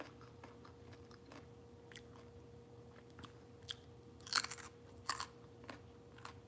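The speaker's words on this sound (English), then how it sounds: "I forget that you guys can hear me chewing" Quiet, close crunchy chewing with a few louder bites and scattered soft clicks over faint background hum.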